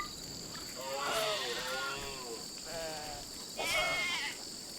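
Sheep in the Rimworld colony game bleat in a few wavering calls, one after another, over a faint steady high hum.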